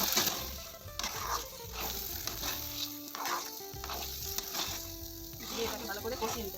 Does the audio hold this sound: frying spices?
yes